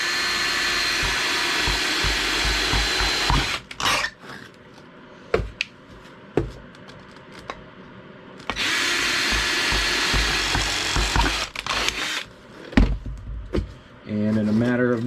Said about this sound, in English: I have a drill, so this is the easiest way for me to do it